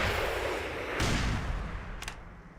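Gunshots in a video game: a loud blast with a booming tail, then a second, sharper crack about a second later over dense background noise.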